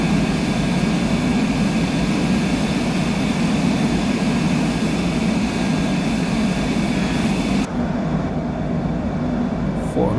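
An airliner's engines roar steadily through the takeoff climb in a flight simulator, a dense, loud, unbroken drone with a faint high whine that thins out abruptly near the end.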